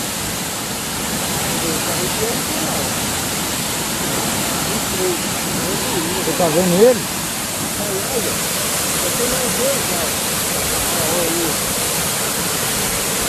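A waterfall seen from above gives off a continuous broadband rushing roar, steady and fairly loud, while someone briefly speaks over it midway.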